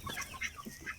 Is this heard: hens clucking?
yes